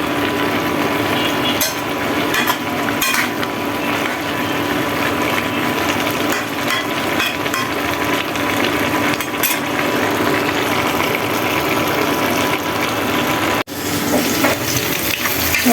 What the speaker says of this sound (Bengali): শাকটা, পাট শাকটা রান্না করবো, তাই একটু রসুন ভেজে নিচ্ছি